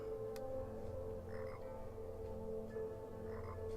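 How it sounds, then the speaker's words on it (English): Frogs croak in the Tower of Time video game, a faint repeated ambient croaking over a low steady background drone, with no voices. "I hear frogs."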